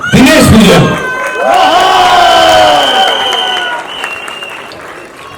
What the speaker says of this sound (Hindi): तालियां बजाइए दोस्तों दिनेश सर के लिए